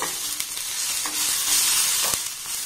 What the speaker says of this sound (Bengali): দেখুন সমস্ত উপকরণ খুব ভালোভাবে নাড়াচাড়া করে ভেজে নিয়েছি।